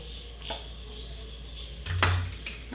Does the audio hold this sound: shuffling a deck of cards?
no